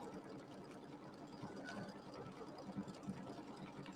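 An embroidery machine stitches a stipple quilting pattern in the hoop on glitter vinyl, giving a continuous, fairly soft mechanical whirr with faint rhythmic ticking and no speech.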